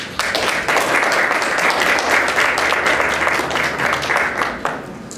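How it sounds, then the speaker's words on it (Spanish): Sustained applause from a lecture audience welcoming a speaker to a university conference, dense and steady throughout before tapering slightly at the end. "lo recibimos con fuertes aplausos"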